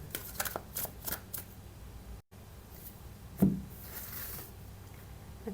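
A deck of tarot cards is shuffled close up in soft, rapid riffling bursts, broken by a brief pause and one sharper slap of cards.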